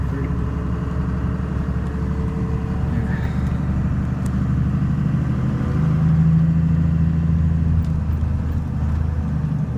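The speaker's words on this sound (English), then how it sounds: "So we're gonna go for a test ride. All right, here's the first drive." A car with a Getrag manual transmission, newly converted from an automatic, drives on its first test run, its engine a steady, loud mid-pitched hum with a slight swell partway through, heard from inside the car.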